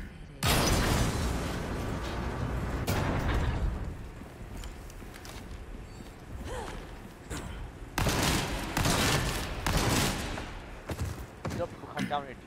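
Cannon fire and heavy blasts in Resident Evil 4, loud rolling bursts with crackling debris and clanking mechanisms, under ongoing game action and voices.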